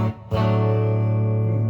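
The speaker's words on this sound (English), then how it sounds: "Bluesy kind of distortion." Electric guitar run through a HeadRush pedalboard set to a bluesy distortion tone, a loud sustained chord after a brief choke, ringing out steadily and evenly to the end.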